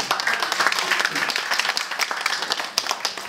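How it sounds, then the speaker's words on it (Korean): An audience at a tax-saving seminar gives a round of clapping, loud and continuous, with a voice talking over it. "우리 사무총장님을 박수 한번."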